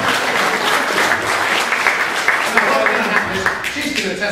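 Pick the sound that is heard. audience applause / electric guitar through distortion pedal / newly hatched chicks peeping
audience applause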